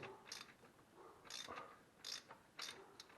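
A ratchet wrench being tightened, heard as four short clicking bursts spaced about half a second to a second apart, quiet and close with no talk.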